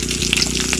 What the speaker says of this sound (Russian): Сейчас яичницу жарим